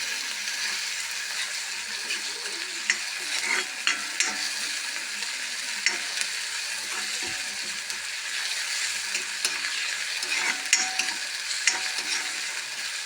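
Onion and tomato stirred in a hot pan for a papad curry, a steady broadband sizzle with irregular scrapes and taps of the spoon against the pan, close and continuous with no talking.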